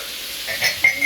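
Khichuri ingredients sizzle briefly in a hot pan while being stirred, a short burst of frying crackle with a scrape of the spoon near the end.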